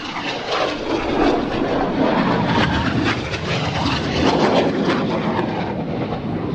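A Super Hornet jet flying at an airshow, a loud, continuous broadband engine roar that fills the whole stretch with slight swells in intensity and no pause.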